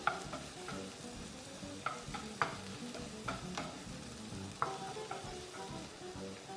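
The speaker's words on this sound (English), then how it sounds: "So we can just stir our onions here." Onions frying in a pan and being stirred, a soft steady sizzle broken by scraping and clicking strokes of the utensil, close and fairly quiet.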